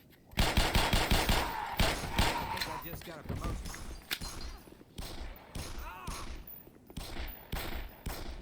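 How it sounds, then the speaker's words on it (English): Rapid bursts of gunfire in the video game Black Mesa, scientists being shot, loud repeated shots in clusters with thuds, with talk mixed in. "Are you shooting the scientists?"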